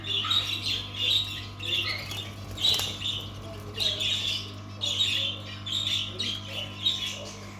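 A young parrot squawks inside a pet shop, repeated bright calls in a steady series over a constant low electrical hum, with faint background activity.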